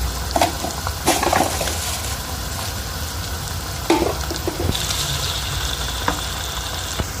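Fennel seeds tipped into a pan of cumin frying in hot oil, giving a steady close sizzle with scattered crackles and a few scrapes of a spoon against the pan.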